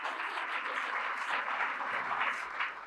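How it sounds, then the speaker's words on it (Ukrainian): Brief, fairly faint applause from an audience at a technology and reconstruction dialogue event, a steady patter of many hands. "Заслуговує аплодисментів."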